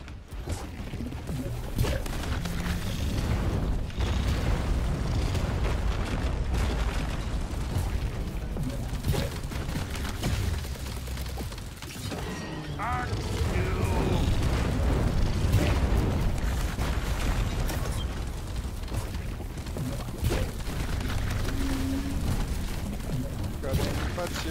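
Video game explosions boom and crackle in dense, overlapping bursts over continuous rumbling action, with voices talking throughout.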